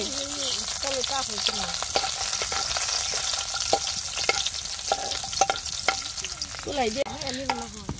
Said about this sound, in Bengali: রসুন ভাজা হয়ে গেছে, নামিয়ে নিব।